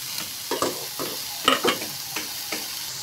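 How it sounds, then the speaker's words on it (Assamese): Greens frying in a wok, with a steady low sizzle broken by several sharp scraping stirs, two louder strokes near the middle. "এতিয়া শাকটো দি দিম কেৰাহীত।"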